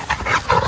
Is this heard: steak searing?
no